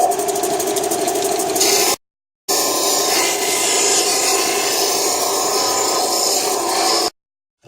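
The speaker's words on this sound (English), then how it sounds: "I've got a belt sander." A belt sander rounding the edges of wooden slides: a loud, steady grinding drone in two long runs with a short silence between them.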